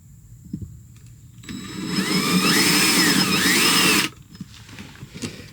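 A power drill runs in one steady, loud burst for about two and a half seconds while a charging port is fitted to a Yamaha 242X boat, with quiet handling noises before and after.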